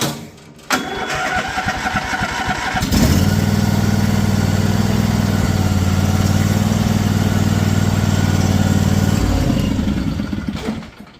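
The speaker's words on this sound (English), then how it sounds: "this tractor runs great" A riding lawn tractor engine idles steadily and close by, a loud continuous low rumble that starts up after a few seconds, runs evenly, then cuts off near the end.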